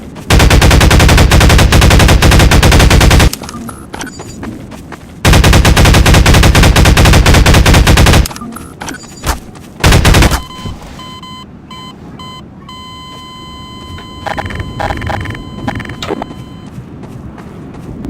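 Video game gunfire in Garry's Mod aimed at the floor: two long, loud bursts of rapid automatic shots, then scattered single shots and beeping game sounds, with no speech.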